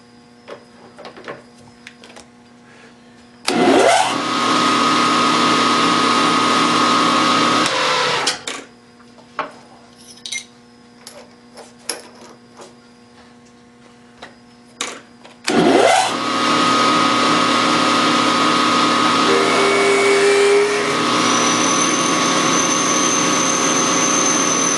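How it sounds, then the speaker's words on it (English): Machine drilling of a 5/16 inch hole through a Stirling engine part: two loud sustained whirring, grinding bursts of several seconds each, separated by quieter stretches of low hum and small clicks. "and we will drill that hole all the way through."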